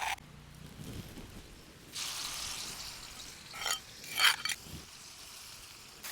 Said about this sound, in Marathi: मिरची लसूण जिरे कुटून घेतलेले ते पण टाकून घेऊ त्याच्यामध्ये आपल्याला हे परतून घ्यायचं आहे